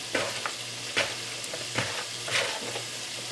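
Floured shrimp frying in hot oil, Essex-style, giving a constant close crackling sizzle with a low hum beneath and several sharper pops and spatters spaced across the stretch.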